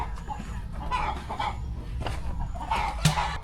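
Backyard chicken coop on a small nature-friendly farm, with hens fed chopped banana giving soft, scattered clucks over a low rumbling background, one sharper squawk near the end.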